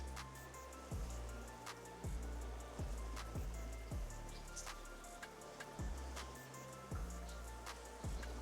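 Light water shower sprayed onto a coated car windshield, a continuous patter of droplets with soft repeated thumps at a steady rhythm, close and moderately quiet.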